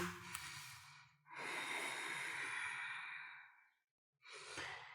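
Slow, deep breaths during a yoga flow: a short exhale, then a long airy inhale or sigh, a pause and another breath, close and soft with no talk.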